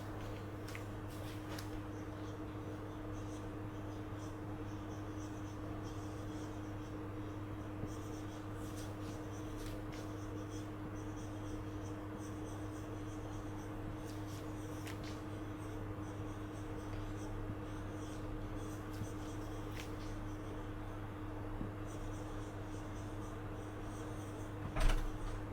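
A pen writes by hand on paper, producing faint, intermittent scratching strokes close by over a steady low electrical hum.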